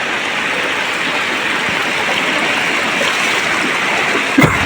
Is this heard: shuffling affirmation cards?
no